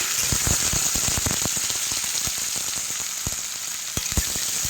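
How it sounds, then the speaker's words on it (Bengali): Chopped tomatoes sautéing in a pan for a hilsa fish head and ash gourd curry, a loud, steady sizzle with scattered sharp crackles and spits, close up and without voices. "এবারে দিয়ে দেবো একটু টমেটো টুকরো করা, দিয়ে একটু কষিয়ে নিচ্ছি।"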